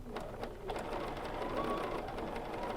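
A BERNINA sewing machine doing free-motion quilting on fabric, stitching in a rapid, steady mechanical patter that stays fairly quiet and continuous throughout.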